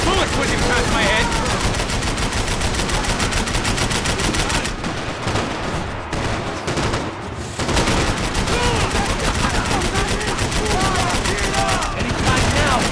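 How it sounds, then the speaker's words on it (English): Dense, sustained gunfire from the video game Max Payne 3, with rapid overlapping shots and bullets whizzing past. It stays loud and continuous throughout, with a brief thinning in the middle before the barrage resumes at full intensity. "I can't concentrate with bullets whizzing past my head!"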